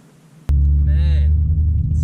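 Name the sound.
Holden Commodore Chaser car air conditioning running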